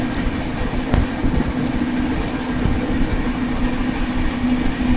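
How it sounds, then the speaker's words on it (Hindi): The Jaipur Express running at 125 km/h gives a loud, continuous rail rumble and rattle heard from close by, steady throughout with faint clickety-clack. "जयपुर एक्सप्रेस 125 की रफ्तार में लगातार भागते हुए"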